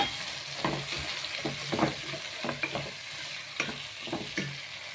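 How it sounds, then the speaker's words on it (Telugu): Onion and tomato frying in a pan for chicken biryani, a steady sizzle with repeated scraping stirs of a spoon at an uneven rhythm, close and moderately loud, no talking. "ఆనియన్ అయితే ఫ్రై అయిపోయిందండి ఇప్పుడు టమోటా కూడా యాడ్ చేస్తున్నాను"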